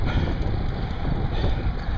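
Outdoor wind buffets a microphone on a warm, breezy day at the Dam Jam 2010 event in Pryor, Oklahoma, a steady low rumble that holds for the whole stretch with no talk.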